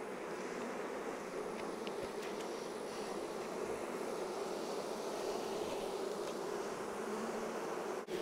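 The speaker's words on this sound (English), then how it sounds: "There's a lot of daggum bees in this thing." Honey bees buzz in a hive box, a dense, steady droning hum that stays close and constant throughout.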